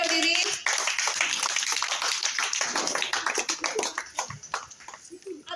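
Audience at a neighbourhood Ganesha festival clapping for a prize winner, a burst of many close hands applauding together that thins into scattered claps toward the end.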